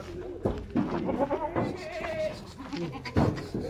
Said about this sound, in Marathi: 3 शेळ्या आणा.